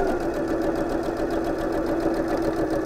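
A sewing machine runs steadily while stitching an apron seam, giving a continuous rapid mechanical whir and clatter with an even rhythm and no talk.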